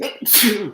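A single close, sharp sneeze bursts out loudly, followed by a brief spoken apology.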